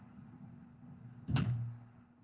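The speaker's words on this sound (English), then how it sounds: "Let me shut my door because I can't." A home door is pushed shut with a single soft thud, close by, followed by a short fading rumble in an otherwise quiet room.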